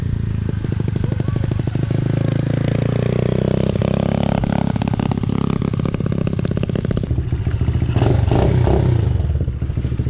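A Chinese children's dirt bike engine runs loud and close throughout, its pitch rising and falling as it revs, with rattling mechanical clatter near the end.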